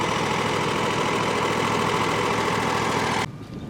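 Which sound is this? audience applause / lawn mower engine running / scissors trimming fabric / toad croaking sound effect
lawn mower engine running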